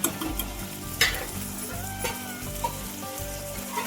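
Chopped tomatoes sizzle in a hot pan while a spoon stirs them, scraping and knocking in a rough repeating rhythm over a constant close frying hiss.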